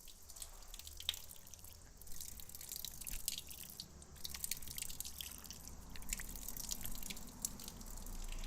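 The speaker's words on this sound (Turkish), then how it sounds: "Şimdi yüzümüzü yıkıyoruz." Faint water trickles and drips from a tap as a face is washed during ablution, quiet splashes and drops scattered unevenly over a low background.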